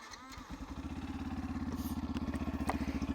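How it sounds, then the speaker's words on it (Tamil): A Yamaha FZ version 3 motorcycle idles with a steady, throbbing exhaust beat that settles into an even rhythm after the first half second, close and fairly loud. "எக்ஸாஸ்ட் நோட் உங்களுக்கு நான் காட்டுறேன்."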